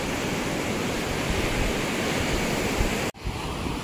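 Waves wash onto a beach in a continuous loud broadband rush, heavy and near, with a brief dropout just before the end.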